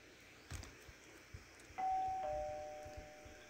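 Two-tone doorbell chime from the video game Danganronpa Another, a clear ding followed by a dong that rings out and decays, over faint background thumps.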